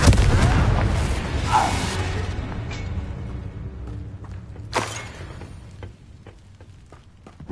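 A Confringo fire spell blasts in Hogwarts Legacy: a loud, booming explosion at the start rolls off slowly, then a second sharp burst lands a few seconds later, trailed by scattered faint pops.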